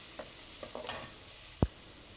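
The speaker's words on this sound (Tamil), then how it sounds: "அதில் இஞ்சி பூண்டு விழுது 1 டீஸ்பூன் போட்டுக்கலாம்." Ginger garlic paste frying in a spoonful of hot oil in a pan, a soft steady sizzle with a few light stirring scrapes and one sharp clink of a utensil near the end.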